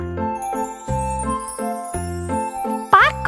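Cartoon Christmas bells jingle in a bright, tinkling pattern, struck about twice a second in a regular rhythm, then a final higher warbling chime, clear and loud with no voices.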